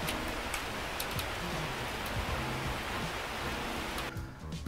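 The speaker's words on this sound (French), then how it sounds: "je sais pas si vous entendez la pluie." Steady rain pours down, a dense, continuous hiss with scattered drops spattering nearby, easing slightly at the very end.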